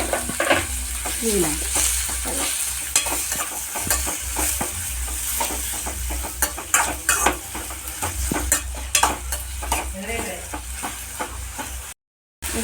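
Tomatoes fry loudly in a pan at close range, with a constant sizzle and frequent clanks and scrapes of a utensil stirring them. A voice speaks briefly.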